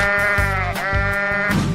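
A sheep bleats in an animal slide video game. The wavering bleats are loud and close, sitting over a constant background of game music.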